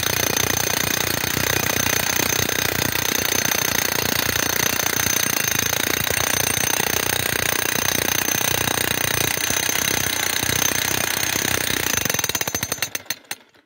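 A rented jackhammer drives piles into the ground for a greenhouse, hammering in a loud, continuous rapid pounding that runs almost the whole time, then stutters and cuts out near the end.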